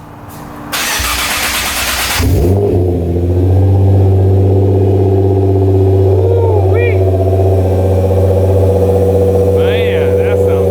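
A Nissan GT-R R35 fires up with a brief cranking whir, catches with a loud rising flare, then settles into a steady, deep, close idle that holds for several seconds with slight fluctuations.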